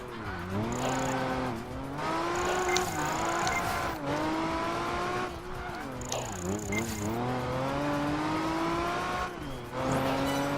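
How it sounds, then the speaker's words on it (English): A car in Project Gotham Racing 4 drifts and accelerates, its engine revving and sweeping up and down in pitch over repeated tire squeals through the turns, loud and continuous. "Hard to control this car, even when we drift."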